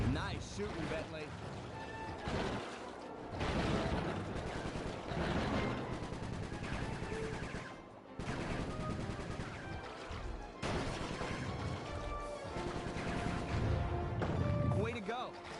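Gunfire in the video game Sly 3, repeated shots and bursts mixed into game effects and music, with a voice speaking over parts of it.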